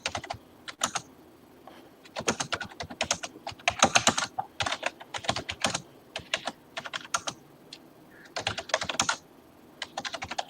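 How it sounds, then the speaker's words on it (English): A guest types on a computer keyboard in uneven bursts of quick, close clicking separated by short pauses, with no talk. "while my guest is typing away here"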